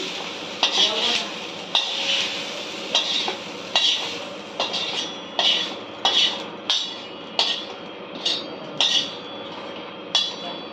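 Roasted masala is scraped out of a pan onto a plate with a metal spoon, about a dozen sharp metallic clinks and taps at a steady rhythm with short scraping between them, close and clear, no voices.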